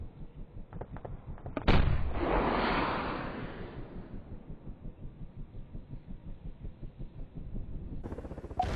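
A single loud gunshot fired at a helicopter in Arma 3, a sharp crack followed by a long rolling echo over a steady throbbing engine hum, with a few faint clicks before it.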